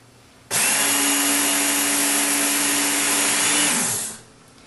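A Work Sharp knife and tool sharpener whirs steadily at close range for about four seconds as a knife is drawn through its guide, with a high abrasive grinding hiss that winds down at the end.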